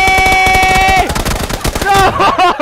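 Beryl rifle fire in a video game, a loud, rapid automatic burst of evenly spaced shots close up, briefly broken and then resumed.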